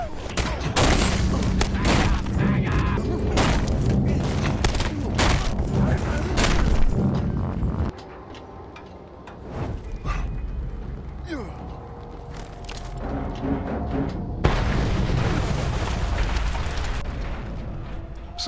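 Dense booming explosions and rapid gunfire rumble almost without pause at Camp Thunderstick in the Mad Max video game, easing into a lower-level stretch of scattered bangs before a loud burst of blasts returns.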